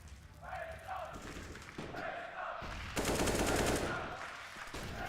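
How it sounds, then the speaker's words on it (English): AK rifle gunfire in Counter-Strike: Global Offensive, during a professional esports grand final, with rapid bursts and thuds under continuous commentary, growing louder and denser midway before trailing off. "Rowan evaluating the hall with the AK"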